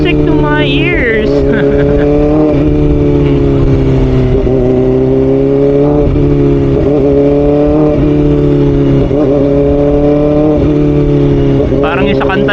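A Kawasaki ZX-4RR sportbike engine runs loud and close with a high, buzzy four-cylinder tone. It revs up and down repeatedly, and someone talks over it throughout.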